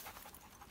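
Dogs panting quickly after playing together on a warm, sunny morning, a short burst of soft, rapid breaths heard faintly and close by.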